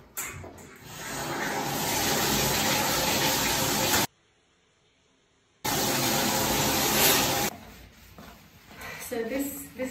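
Warm running water hisses loudly from a shower head spray while bathing a greyhound, cutting off abruptly for about a second and a half, then resuming before easing into quieter splashing.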